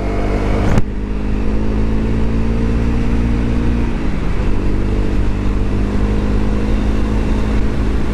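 A Honda CRF 250L single-cylinder motorcycle engine drones loudly and steadily, its pitch rising then dipping and settling as it accelerates, after a brief sharp click near the start.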